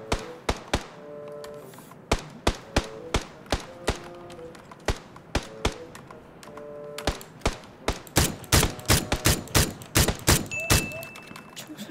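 Gunfire in a video game: sharp, separate shots crack out one after another, loosely spaced at first and then quickening into denser bursts near the end, close and fairly loud.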